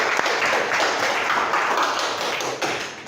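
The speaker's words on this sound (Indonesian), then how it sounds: "Tepuk tangan semuanya." A classroom of students applauding together, dense steady clapping at moderate level with no talk.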